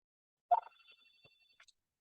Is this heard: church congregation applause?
no